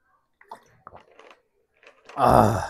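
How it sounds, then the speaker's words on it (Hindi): A person drinking water after a long spoken English lesson, with a few faint wet mouth sounds and then a louder gulping, swallowing burst at the end, close to the microphone and without speech. "गला ही दुख गया तो पानी पीना पड़ा।"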